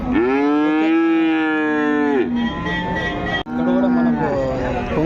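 A Punganur cow at a calf market gives two long, loud, close moos separated by a short pause, with faint market background beneath.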